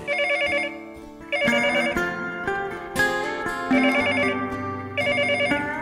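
A telephone rings in repeated bursts, a trilling bell pattern recurring every second or so, loud and close over a background of music.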